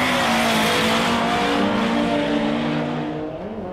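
A drift car slides through a corner at a 2007 drift competition, its engine roaring loud and close with sustained tire squeal, fading slightly at the end.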